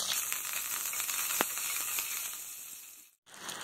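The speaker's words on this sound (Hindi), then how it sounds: "अब इसमें कड़ी पत्ता डाल देंगे।" Curry leaves crackling in hot oil after garlic and chillies have fried, a steady close sizzle with a faint high whine and a brief dropout near the end.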